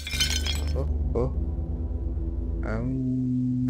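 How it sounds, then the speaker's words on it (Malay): In a haunted-house scene in the video game Paranormal Territories 2, an object falls and shatters with a sharp glassy crash, followed by a low, sustained eerie tonal drone and a second, fainter rattle. "Ada bunyi suara benda jatuh dan pecah."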